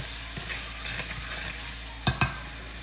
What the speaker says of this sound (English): I'm going to mix this like this.